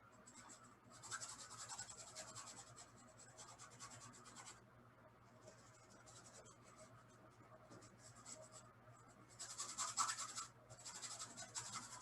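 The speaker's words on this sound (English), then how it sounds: "You can hear that scrubbing sound. That's keeping the paint really thin." A paintbrush scrubs thin paint across canvas in a painting class. Dry, rasping strokes come in bursts, close and fairly quiet, with short pauses between runs and no talk.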